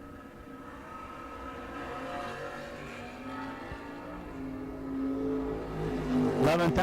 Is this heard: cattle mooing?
no